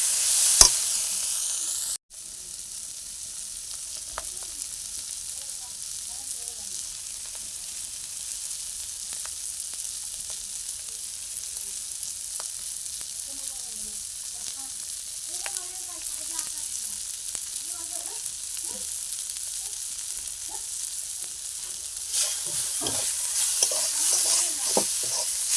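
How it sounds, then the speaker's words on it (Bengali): Fish pieces with turmeric, chili and salt are stirred in a pan for a stuffed kakrol filling, giving a quiet, continuous sizzle with scattered light clicks of the spatula and one sharp knock at the start. "এটার মধ্যে দিয়ে দেবে হলদি, মরিচ আর লবণ দিয়ে নেড়ে চেড়ে নেবো।"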